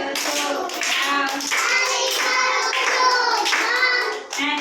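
Small children at an anganwadi clap along as a group sings an action rhyme, the rhythmic claps landing under continuous melodic singing at close range.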